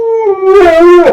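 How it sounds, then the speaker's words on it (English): A pet dog lets out a single loud, close howl lasting about a second, a clear tonal wail that rises slightly and then breaks off, heard alone with no talking. "my dog is legit just like, she just howled, which is unnatural"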